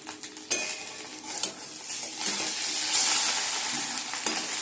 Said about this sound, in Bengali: এই যে বন্ধুরা ডিমটা পোচ করে দিচ্ছি।